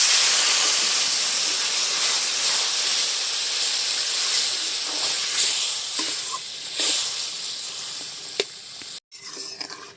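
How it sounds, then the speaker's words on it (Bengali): Water poured into a hot pan of spiced okra curry, bursting into a loud, steady steam hiss that slowly settles, with a few brief clinks near the end. "এবারে আমি এখানে পরিমাণ মতো জল দিয়ে দেবো।"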